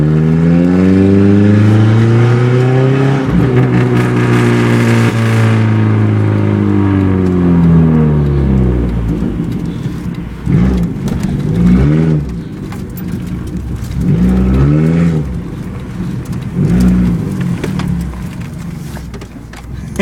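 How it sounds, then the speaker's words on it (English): A car with its rotted exhaust pipe torn off revs hard, its loud open engine rising and falling through several sweeping revs, then settling into a deep, uneven rumble with occasional popping backfires, close and unmuffled. "Let's get a little backfiring going. Oh, deep ass rumble."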